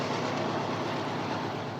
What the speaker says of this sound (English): Like BNSF, UP assigns only 6-motor AC diesels to coal trains.